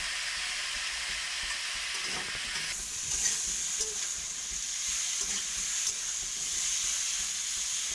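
Something sizzles loudly in a hot pan while being stirred, the steady close frying hiss brightening partway through, broken by occasional scraping and clacking of the spoon, with no one speaking.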